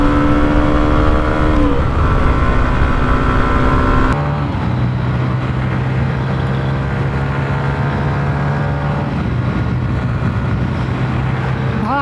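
Hero Xtreme 125R and Honda CB Hornet 125 motorcycles in a drag race, their engines droning loud and close with a steady buzzing tone. Pitch shifts abruptly partway through as the throttle changes.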